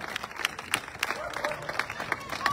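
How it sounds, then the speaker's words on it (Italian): A crowd at an outdoor political rally in Falcone claps, with scattered hand claps forming soft, continuous applause heard from a distance. "Forte, forte l'applauso."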